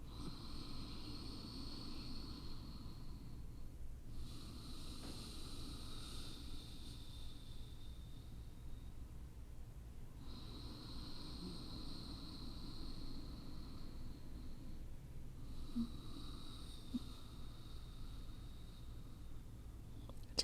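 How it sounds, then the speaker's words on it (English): Ujjayi yoga breathing through the nose, slow deep breaths with a soft oceanic rasp, each inhale and exhale stretching several seconds in a quiet room, close and fairly faint. "if Ujjayi breath is part of your practice, you can begin that deep sounding breath now."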